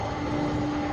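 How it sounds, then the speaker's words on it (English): Airbus A300 on UPS flight 635 out of St. Louis, Missouri, moving at Louisville's SDF airport, makes a steady, unbroken jet engine roar with a faint whining tone held throughout. "Next up on our side here out of St. Louis, Missouri, UPS 635, an Airbus A300."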